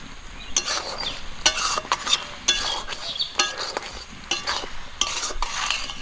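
Raw mango pickle with spices being stirred in a pan, a spoon scraping and clinking against the metal over a soft sizzle, in steady repeated strokes for several seconds, close up, with no voices.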